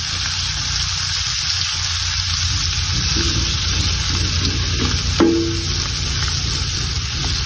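Pork for adobo frying in a pan with garlic, giving a steady broad sizzle throughout, a few faint stirring scrapes, and a brief clink near the end; no one talks.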